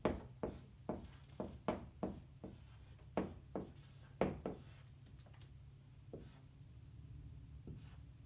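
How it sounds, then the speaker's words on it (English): Someone writes words on a board during an art lecture: a quick run of sharp, rhythmic strokes and taps, then slower, sparser marks, close and fairly quiet over a low room hum. "So let's write those down."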